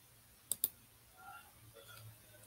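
Two quick sharp clicks of a computer mouse on a Chromebook, close and crisp, followed by faint soft rustling in an otherwise quiet room.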